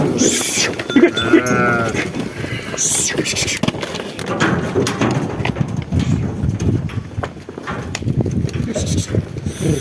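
A flock of sheep is herded at close range, with bleating, shuffling hooves and rustling movement running throughout while people call out and talk over them.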